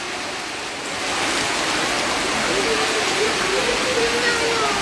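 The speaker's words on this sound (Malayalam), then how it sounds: "നല്ല മഴയാണ്" Dense, constant roar of heavy monsoon rain pouring down at a bus stand in Mayyil, Kannur, loud and unbroken, swelling slightly after the first second.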